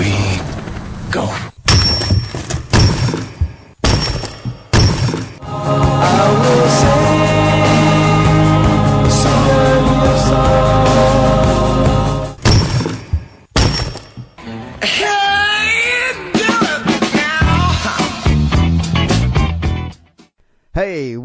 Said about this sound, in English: that's the sound of rock cracking